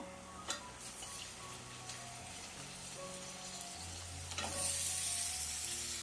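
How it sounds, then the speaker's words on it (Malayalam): Chicken pieces coated in turmeric powder fry in oil with softened shallots, a low steady sizzle that swells louder toward the end, with a few soft stirring knocks and no voices. "ഇനി നമുക്കിതിലോട്ട് മഞ്ഞൾപ്പൊടി പുരട്ടി വെച്ചേക്കുന്ന ഈ ചിക്കൻ ചേർത്ത് കൊടുക്കാം"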